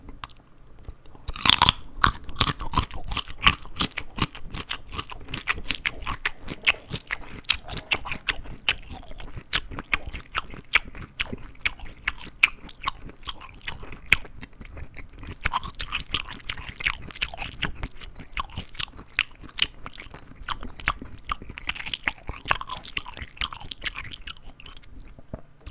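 Close, crisp crunching and chewing of raw carrots, celery, apples, pickles and mixed nuts, a dense run of sharp bites and mouth sounds continuing for about twenty-five seconds without talk.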